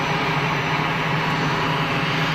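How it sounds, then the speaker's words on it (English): Steady, loud engine roar from a Piaggio P180 Avanti twin turboprop pusher aircraft at Geneva Airport, a continuous broadband drone with a low hum, heard alone without speech. "Piaggio P180, the Avanti. It's a twin turboprop pusher"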